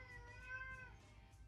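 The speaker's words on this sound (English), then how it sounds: "That's my cat." A domestic cat gives a single clear, drawn-out meow, faint and alone over low background hum.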